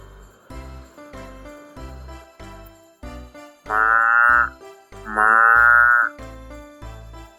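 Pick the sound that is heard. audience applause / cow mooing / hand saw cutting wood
cow mooing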